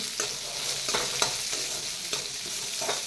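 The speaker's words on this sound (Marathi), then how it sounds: "एक मोठा कांदा रफली चिरून घेतला आहे आता हे आपल्याला लाल रंगावर भाजून घ्यायचं आहे" Roughly chopped onion and ginger roasting in a hot pan for a fresh masala, giving a bright steady sizzle over which a spatula scrapes and stirs in regular strokes about every second, close and with no talking.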